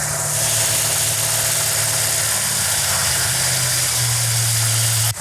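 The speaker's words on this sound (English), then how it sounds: "That's a good idle right there for right now." Freshly rebuilt Dodge Charger engine with a newly broken-in cam idling slightly high after being backed down from about 2,500 RPM, a steady loud low rumble with a faint pitch drop near the end.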